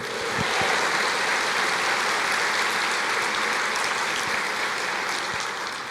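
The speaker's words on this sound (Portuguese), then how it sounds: "Pode aplaudir o Senhor" A church congregation applauds during a Portuguese-language worship service, with dense, steady clapping filling the room evenly for about six seconds.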